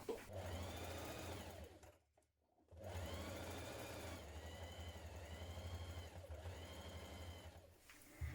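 A sewing machine runs steadily, stitching along the top edge of a tote bag, with a brief pause in the middle before the motor resumes its even whirring hum.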